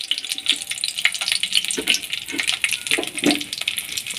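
Dry red chillies and whole garam masala spices frying in hot oil in a pan after fish has been removed, giving a steady close hiss and sizzle with occasional stirring clicks and no talking.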